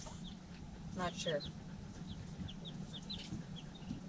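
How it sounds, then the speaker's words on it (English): Roosters and chickens cluck and crow in short, scattered calls at moderate distance over a steady low background hum, with a person speaking briefly. "I think these are the roosters"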